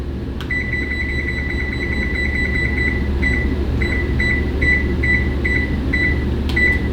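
An oven control panel beeps in a quick run of short, clear electronic tones while the oven is being set, over a steady appliance hum in a home kitchen.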